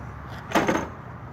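A compartment door on a bus shuts during a pre-trip inspection, one brief dull thud with a short second knock right after, moderately close amid quiet background noise.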